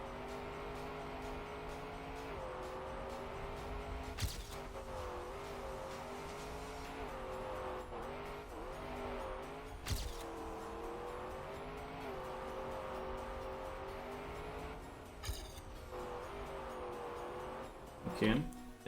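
A racing car in a racing video game on the Burnout Boulevard Endurance map drives with a quiet, continuous engine drone whose pitch rises and dips through shifts and braking, with a few brief scrapes and squeals, under faint talk.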